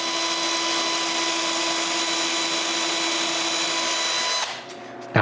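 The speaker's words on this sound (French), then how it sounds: "J'ajuste la profondeur de coupe et je perce le trou." Power drill boring a hole in walnut for a clock box, a loud steady whine held for about four seconds before it cuts off abruptly, followed by brief handling noise.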